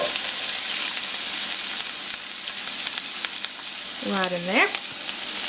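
Onion frying in two tablespoons of melted butter, a continuous crackling sizzle close by, with a person talking briefly over it.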